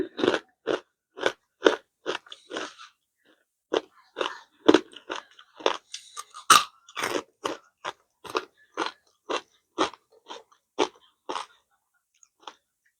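Very crunchy, crispy fried pork rinds are chewed close up, eaten with a spicy pounded salad. Loud, sharp bites and crackling crunches come in a quick, fairly regular rhythm with a few short pauses.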